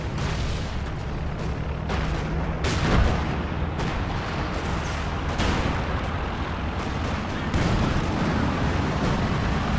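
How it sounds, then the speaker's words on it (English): Heavy battle din in Company of Heroes 2, with Panzerwerfer rocket artillery and Stuka dive-bomber strikes: a continuous loud roar of explosions and firing with repeated booming hits, no speech. "Panzerwerfer and Stuka just wrecking all this stuff over here."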